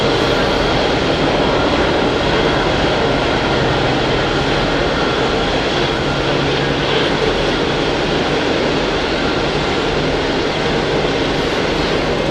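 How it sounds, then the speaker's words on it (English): An Aer Lingus airliner taxis at Hamburg Airport, its jet engines producing a loud, steady roar that fills the scene without a break for the whole stretch, with no talk. "Aer Lingus taxiing"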